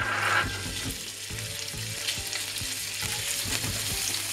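Prawns frying in a little oil in a pan for Chinese three-delight fried rice, a dense close sizzle with repeated clinks and scrapes of a utensil, steady throughout, and no speech.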